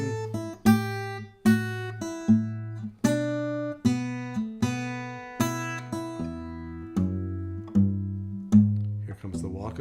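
Second section of a tune, starting from measure 8, played on a plucked instrument with a steady pulse of clear, ringing notes and a walking bass movement, close and moderately loud with no talking.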